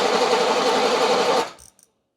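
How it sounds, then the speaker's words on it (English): A Mercedes 450SEL engine cranking on the starter during a compression test on cylinder six: a loud, steady rapid whirring for about a second and a half that cuts off, followed by a couple of faint clicks, with no talk. "Okay, let's crank."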